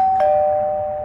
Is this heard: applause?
no